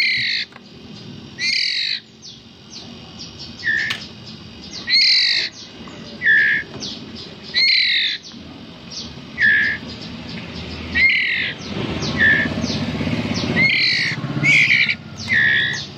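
White-rumped shama chicks squawk for food in repeated loud, harsh, close bursts, each raspy begging call spaced a second or two apart, with soft handling noises and rustling between them.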